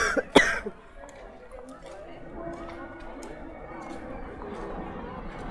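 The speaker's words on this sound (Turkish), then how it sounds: "Arada bir öksürüyorum" A single sharp cough near the start, outdoors in Delhi, India, followed by faint indistinct chatter and background murmur.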